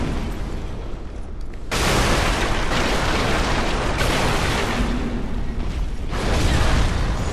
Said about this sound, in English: Exploding bolt